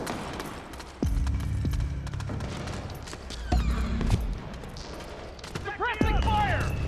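Bursts of suppressing gunfire in the stealth action game Metal Gear Solid 4, with a loud volley starting around one second and further shots and booms later, set amid busy battle ambience and soldiers' shouts.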